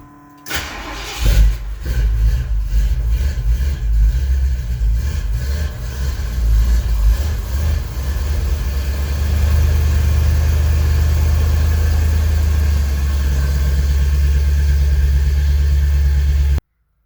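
A 441 engine with three-chamber Flowmaster exhaust and 3-inch pipes starts up loud and close. It stumbles through a few rough revs, then settles into a steady, deep, rumbling idle for the rest of the clip.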